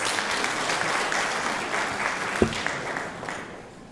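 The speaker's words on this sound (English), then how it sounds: "Let's give them another round of applause." Applause from a conference audience in Nairobi for the KICD choir, a dense steady clatter of many hands with a sharp louder clap midway, fading toward the end.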